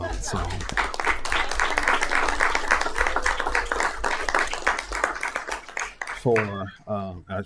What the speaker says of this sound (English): that should get an applause